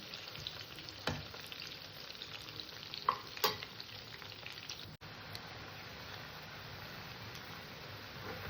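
Chicken pakoras fry in hot oil with a steady, soft crackling sizzle, broken by a few sharp clinks of a utensil against the pan.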